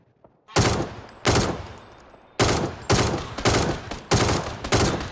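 Heavy gunfire in PUBG, seven loud automatic bursts in uneven rhythm with short gaps, close and dominant, each ringing out briefly before the next.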